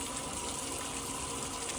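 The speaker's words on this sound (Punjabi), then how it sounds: "ਵੇਖੋ ਪਾਣੀ ਨਿਕਲਦਾ ਇਹ ਕਲਿੰਡਰ ਚੋਂ" Water rushes out of a tractor engine cylinder in a steady, continuous gush, close and fairly loud.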